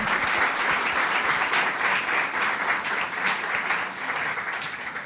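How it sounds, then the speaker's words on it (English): Steady, dense applause from a workshop audience, sustained and fairly loud throughout with no voices standing out. "Applause to Mr. Aaron Starkey."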